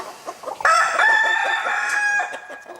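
Rooster crowing loudly and close, a single long drawn-out cock-a-doodle-doo with hens clucking around it on a farm.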